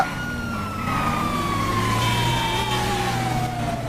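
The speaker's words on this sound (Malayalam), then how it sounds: "ഇതിപ്പോ സൈറൻ ഉണ്ടല്ലോ ഓൾറെഡി" In a GTA roleplay game, a vehicle siren wails continuously with a slowly falling pitch over a low engine rumble, loud and steady throughout, with no speech.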